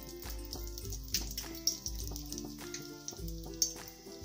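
Asafoetida and mustard seeds sizzling in hot sesame oil in a pan, a faint steady frying hiss with soft crackles and a few sharper pops, no talk.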